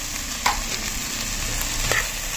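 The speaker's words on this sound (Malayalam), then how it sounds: "ഈ മസാലപ്പൊടിയുടെയൊക്കെ പച്ചമണം ഒന്ന് മാറുന്നിടം വരെ നമുക്കൊരു 2 മിനിറ്റ് ഒന്ന് ഇളക്കി കൊടുക്കാം" Jackfruit seeds coated in masala powders are stirred in a hot pan. A steady close sizzle runs throughout, with a couple of faint scrapes from the spoon and no voices.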